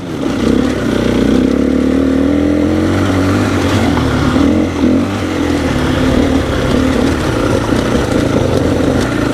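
An enduro dirt bike is ridden on offroad trails, its engine droning loud and close with steady revving and slight rises in pitch, and mechanical clatter throughout.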